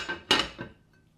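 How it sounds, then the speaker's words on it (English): A lid set onto a kitchen pot of boiling potatoes, giving a brief metallic clatter: a light knock, then a louder ringing clank and a softer rattle settling within about a second. "Don't forget to toss on the lid"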